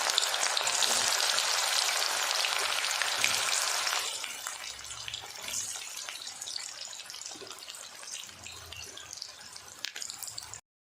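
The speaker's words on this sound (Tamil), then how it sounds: "காலிஃப்ளவர் பொரிக்கிறதுக்கு எண்ணெய் ஊற்றிருந்தேன்" Steady, loud sizzling and crackling of cauliflower frying in hot oil, easing slightly partway through and continuing with scattered pops.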